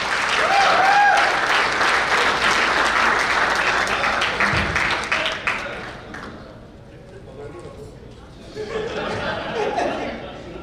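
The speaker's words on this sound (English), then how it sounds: "In your big round of applause, Shaq." Big round of applause from a banquet crowd at an award night, dense clapping loud at first, fading through the middle, then swelling again near the end.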